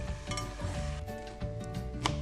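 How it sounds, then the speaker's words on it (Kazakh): Chicken pieces fry in oil in a cauldron with a dense, close sizzle, broken by a few clinks and stirring sounds. "Қызарғанша қуырамыз."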